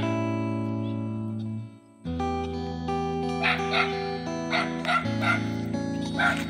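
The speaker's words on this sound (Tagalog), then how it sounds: "Ingay ng aso ni Samuel" A dog barks repeatedly in short bursts over a steady musical backdrop, the barks fairly close and clear.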